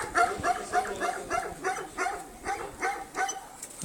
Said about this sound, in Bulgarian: едно от кучетата на дядото